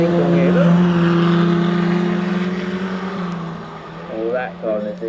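Autograss racing cars, including Junior Specials, roaring down the straight with sustained loud engine drone and shifting revs, under a commentator's voice.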